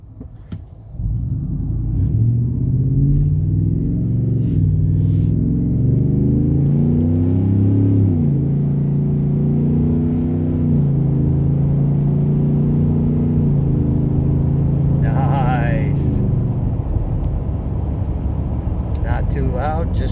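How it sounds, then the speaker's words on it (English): A 2023 Ford F-150 truck with an MBRP exhaust and muffler accelerates, its low, deep engine rumble rising and falling through moderate to harder throttle, steady and fairly loud, with a few brief sounds and a voice near the end. "So that's the MBRP exhaust on the truck with the muffler."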